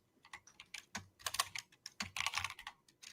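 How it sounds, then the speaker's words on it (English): Rapid clicking keystrokes on a computer keyboard, close and clear, in uneven bursts of taps with brief pauses, no voices over it. "Clickety clack on the keyboard."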